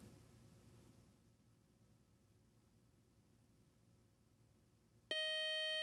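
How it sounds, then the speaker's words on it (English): A quiz show buzzer on a student trivia competition sounds after a quiet stretch of low room hiss, a sudden loud sustained electronic tone that holds steady to the end. "that buzzer means one more toss-up round ahead"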